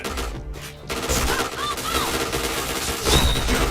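Gunfire in a video game plays as rapid bursts of shots that come nearly continuously, with sharp reports over game noise, loud and close, and a voice is faintly heard underneath.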